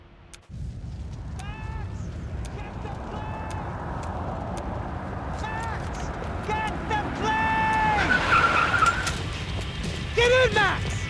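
In the Max Payne 3 video game, a getaway car roars and skids with repeated tire squeals over a rumbling engine and scattered gunfire, while voices shout urgently across the scene.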